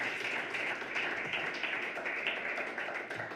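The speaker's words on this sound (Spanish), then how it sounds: "un fuerte aplauso" An audience at a conference talk gives a round of applause, steady and fairly quiet, heard from a distance with no talk over it.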